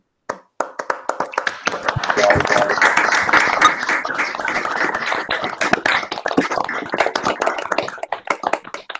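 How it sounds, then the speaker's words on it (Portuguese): Applause and clapping from several people over a video call after an academic talk, slightly uneven and a bit tinny, starting abruptly and continuing steadily for several seconds before thinning out. "convido a todos a abrirem seus microfones para a gente aplaudir o Maurício."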